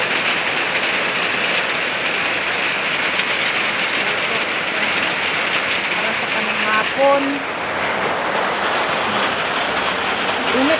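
Steady rain pours down on a rainy afternoon, a continuous dense hiss that fills the whole stretch, with a brief voice speaking partway through.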